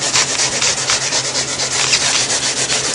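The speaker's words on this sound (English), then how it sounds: "Stay in this area and scuff this down really good." Steady abrasive scuffing on a 2005-2013 Chevrolet Corvette door panel, a continuous close rubbing rasp with quick back-and-forth strokes, heard alone without talk, prepping the surface before a brushed door guard is applied.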